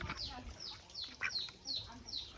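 A large farm duck in Assam being handled while it is weighed on a scale, giving a rapid series of loud, sharp squawking calls close by with a few rustling bumps.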